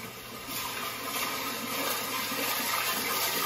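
Steady rushing of running water in an outdoor village cooking setting, a continuous hissing flow that holds even and slowly grows a little louder, with no voices over it.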